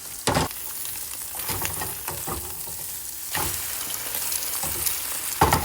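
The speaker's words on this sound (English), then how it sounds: "I'll just sit here, let this little fried egg form" An egg frying in a pan, a steady close crackling sizzle with occasional louder bursts and pops, no voices.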